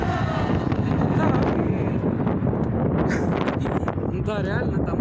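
Outdoor wind buffeting the microphone as a constant loud low rumble and roar, with faint indistinct voices and background activity beneath it.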